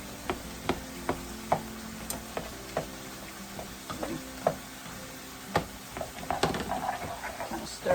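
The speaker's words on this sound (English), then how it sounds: "Kind of stir and mash a little bit at the same time" Potatoes being stirred and mashed with a masher in a pot, giving soft irregular knocks and clicks of metal against the pot over a faint background hiss, close and fairly quiet.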